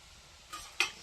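Moong puli pitha stirred in hot frying oil, a faint steady sizzle broken by two short utensil scrapes, the second sharper and louder, close by with no talking.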